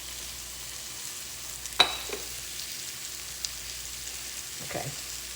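Veggie quesadillas fry in a pan with a soft, steady sizzle, broken by a sharp clink or two of a utensil near the middle and a faint scrape near the end.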